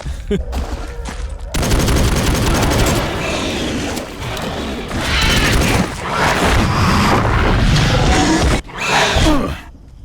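Rapid bursts of gunfire as raptors are shot in the video game Jurassic: The Hunted, dense and loud throughout with booming impacts and game music, breaking off briefly near the end.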